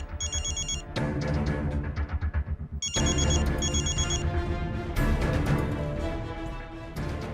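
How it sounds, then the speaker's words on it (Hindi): A phone rings again and again with a repeated electronic ringtone that keeps returning over loud background music in a TV drama scene. "बार बार कॉल क्यों कर रहा है"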